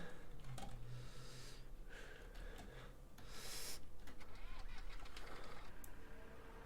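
Modern tractor in a farming simulator game cranks through an old-fashioned startup, then settles into a steady mechanical engine drone with clicking and rattling, the level rising partway through.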